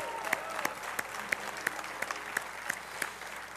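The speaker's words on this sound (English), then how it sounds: "Could I have a round of applause for PSP?" Applause at an outdoor civic event about The Wharf development, fairly faint and distant, with a rhythmic pattern of individual claps standing out above a softer crowd wash.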